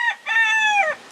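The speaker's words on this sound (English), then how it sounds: "that's my rooster" A single rooster crows once, close and clear: a short opening note followed by a long, sustained harmonic call that drops at the end.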